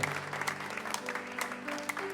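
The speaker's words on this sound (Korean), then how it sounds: "박수 한번" A small crowd of elderly congregants at a church service claps steadily for a couple of seconds, the applause even and moderate in volume, with a low hum underneath.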